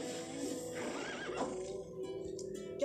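A horse whinnies loudly and close by, its wavering neigh rising and falling over about a second, with faint background sounds afterward.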